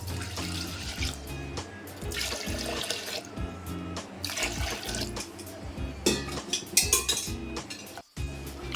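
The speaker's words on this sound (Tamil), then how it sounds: "இப்போ 3 கப்பு தண்ணி சேர்த்துக்கலாம்." Water is poured and splashed into a pressure cooker in a home kitchen, with three cups going in for a sweet rice dish. Metal pot clatters and uneven gushes carry on throughout, close by and fairly loud, with a brief drop in level near the end.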